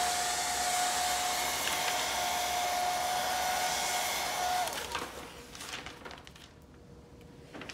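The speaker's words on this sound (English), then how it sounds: "you can blow dry it." A hair dryer blows steadily and loudly on a DIY handprint kit, its motor whine holding constant for several seconds before it shuts off and leaves a quieter room.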